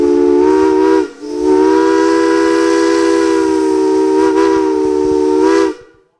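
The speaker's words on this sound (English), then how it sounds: "this monster on the hill, blowing the horn. You got a big steam engine here." A loud steam engine whistle at a moonshine festival in Dawsonville blows in a long, steady blast, briefly dips, then sounds again before cutting off.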